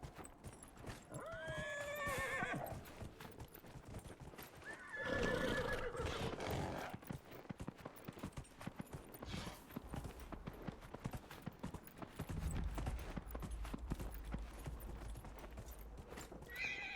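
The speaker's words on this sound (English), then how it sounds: "Horsey." A horse in the game Dragon Age Inquisition whinnies twice in long, wavering calls, then its hooves clip-clop steadily at a walking pace over a soft background ambience.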